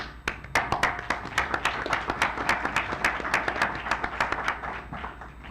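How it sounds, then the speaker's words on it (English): Applause from a small audience at a health economics conference session, thanking the speakers: a modest patter of individual hand claps with audible separate strikes, steady for about five seconds before thinning out. "Let me thanks to all of our speakers with applause."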